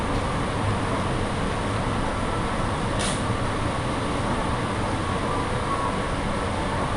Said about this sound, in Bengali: এই ট্রেনটি অবশ্য জুরুইশ থেকে যাবে মেরিনা সাউথ পিয়ার।